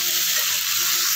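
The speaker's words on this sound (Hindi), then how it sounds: "फ्राई करेंगे" Mixed vegetables frying in a pan at home, a brief, loud, steady sizzle heard close with no voices.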